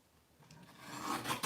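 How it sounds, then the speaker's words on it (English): Paper trimmer blade slicing through cardstock at a stamping craft table, a faint rasping glide that builds over about a second and ends in a brief louder swipe, heard alone without talk. "use my little trimmer to trim that down"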